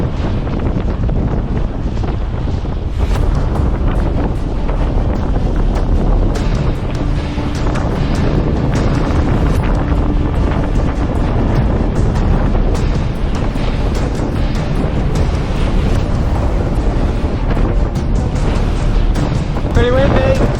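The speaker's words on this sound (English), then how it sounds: "Pretty windy." Strong wind at sea aboard a sailboat sailing solo, a loud constant roar and buffeting over the microphone with rushing water beneath, lasting throughout without letup.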